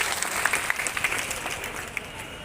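Audience at a political rally applauding, with a dense, steady wash of clapping and a few sharper claps standing out over roughly two and a half seconds.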